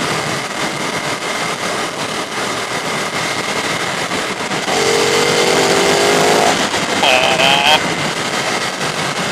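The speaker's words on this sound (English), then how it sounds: "The Ducati noise is growing on me." A Ducati 848 Streetfighter motorcycle engine revs under heavy wind rush on an open road, rising in pitch for a couple of seconds midway, with a rider talking over it.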